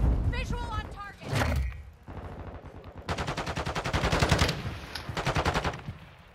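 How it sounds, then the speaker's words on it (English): Automatic sentry gun in a first-person shooter fires sustained rapid bursts, loud and close, stopping and restarting over several seconds, with a voice talking briefly at the start. "Sentry gun deployed."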